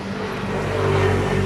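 A motorized tricycle on a road drones past with a steady, buzzy engine note that swells slightly toward the end; nearby and moderately loud, with no talk.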